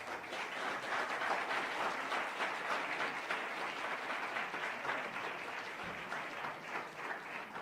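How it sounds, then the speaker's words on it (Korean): Steady audience applause at an academic seminar welcoming a professor to the lectern, a dense, even wash of many hands clapping that holds at moderate level throughout without talk. "여러분들 한번 큰 박수로 환영해 주시기 바랍니다"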